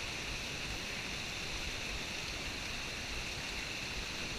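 Heavy rain pouring steadily on a wilderness canoe route, a dense, even hiss with no breaks, close around and with no voices.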